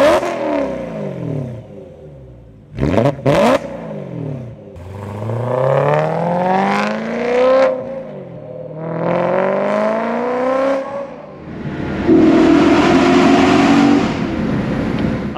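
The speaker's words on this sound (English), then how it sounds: "this exhaust sounds really, really good on this car." BMW E9X M3 with its V8 and a 200-cell Valvetronic exhaust, revving hard in a series of loud rising and falling pulls, with a short sharp blip near the start and a sustained high rev toward the end, no talking.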